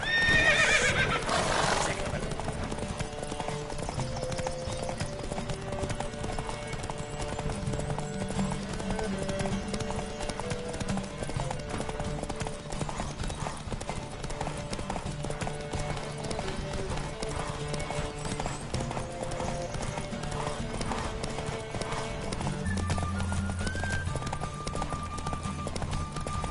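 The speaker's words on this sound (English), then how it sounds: "Don't spare the horse!" Rhythmic clip-clop of galloping hooves in a horse race in The Witcher 3: Wild Hunt runs throughout, with a horse's whinny near the start and a steady music score playing underneath.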